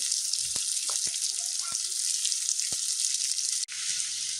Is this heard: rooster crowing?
no